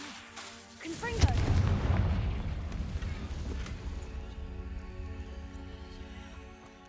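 A Confringo fire spell bursts in the Hogwarts Legacy video game, a sudden booming blast followed by a long rumbling decay and crackle, loud and near, with a brief voice and game music underneath.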